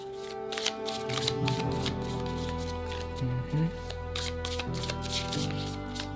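Tarot cards riffle and flick repeatedly in quick papery bursts, close up, over a steady bed of soft ambient music.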